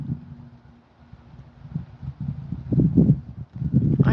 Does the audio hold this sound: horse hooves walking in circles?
yes